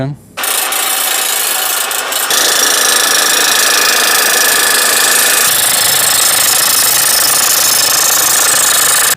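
A modular grounding rod is hammered down into the ground, a loud, continuous, dense rattling hammer noise that starts after a brief moment and runs without a break to the end, with no talking.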